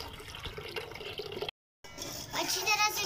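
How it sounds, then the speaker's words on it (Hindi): Boiled red lobiya bean water is poured into a cooking pot, making a splashing, gurgling pour broken by a short silent gap and then stronger again. A voice speaks during the pour. "अब जो बॉईल किया हुआ पानी हम लोगों ने छोड़ा था लोबिया का, वो ऐड करेंगे"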